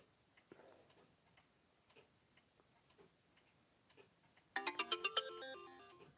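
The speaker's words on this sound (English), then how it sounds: "that's my notification button going off again." Faint regular ticking runs for several seconds, then a phone notification tone cuts in loudly, a quick repeating run of bright chime notes near the microphone.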